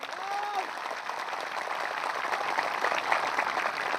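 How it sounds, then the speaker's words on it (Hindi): A Tiprasa crowd claps at a gathering in Takarjala, Tripura, dense sustained applause that builds slightly over a few seconds, with a voice faintly audible at the start. "थोड़ा जोर से ताली मारो तो तिपरासा लोग।"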